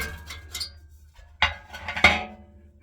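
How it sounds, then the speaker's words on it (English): A metal pan set back in place during a home burn experiment, giving a couple of clanking, ringing metallic knocks after some lighter handling rattles, close and clear with no talk. "let's put the pan back in place"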